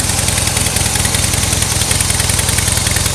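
A 2016 Harley-Davidson Heritage Softail Classic with a 103 cubic inch V-twin engine idles close by, its loud, uneven low-pitched lumpy pulse thumping steadily throughout.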